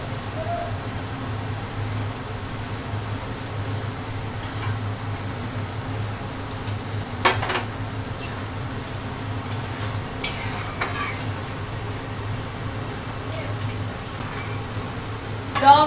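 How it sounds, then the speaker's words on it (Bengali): Broth being poured into a cooking pan and stirred in a home kitchen, heard as a steady low hum with soft scraping and a few faint utensil clinks against the pan, with no talking. "এবার দিয়ে দিচ্ছি ঝোল"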